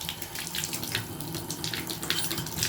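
Water runs steadily from a Glacier Bay 2021 model shower faucet, a continuous close hiss and splash with no cold supply, filling the space alone without talk.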